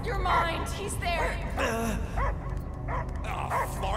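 Barking from a dog in the Guardians of the Galaxy video game, several short yelps and woofs mixed under and between game characters' speaking voices, fairly close and loud.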